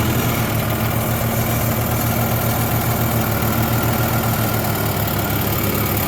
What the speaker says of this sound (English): to start the tractor, make sure it's in neutral, give a little gas, clutch in, and turn the key